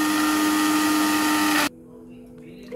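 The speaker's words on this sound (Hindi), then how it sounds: "अभी मैं प्याज को ब्लेंड कर लूंगी।" A kitchen blender grinds boiled onions with a loud, steady motor whir that cuts off abruptly partway through, leaving a faint hum and light clatter.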